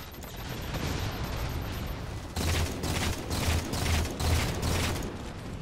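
Rapid gunfire in the game Halo 4, heard as repeated bursts of rattling shots after a stretch of steadier mechanical noise, loud and close, with no voices.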